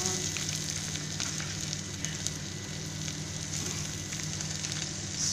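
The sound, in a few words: squid frying in pan for adobong pusit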